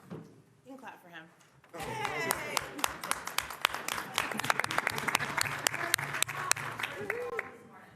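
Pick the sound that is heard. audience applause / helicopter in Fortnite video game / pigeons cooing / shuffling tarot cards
audience applause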